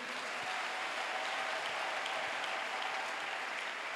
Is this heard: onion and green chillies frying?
no